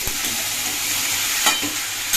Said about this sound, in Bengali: এবার সব কিছু দিয়ে ভালো করে ভাজা